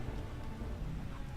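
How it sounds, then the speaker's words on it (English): Steady rain falling in the video game I Remember the Rain, a dense, even hiss of drops heard faintly and alone, with a soft low rumble underneath. "It's raining."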